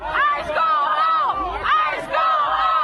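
A protest crowd shouts and yells in rising, wavering bursts, several voices together, loud and close.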